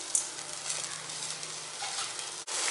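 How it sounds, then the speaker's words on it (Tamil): Egg gravy masala with added water boiling in a pan and being stirred, a steady close bubbling and sizzling hiss with a soft scrape of the spoon. "மசாலா எல்லாமே நல்லா கொதிக்க ஆரம்பிச்சிருச்சு."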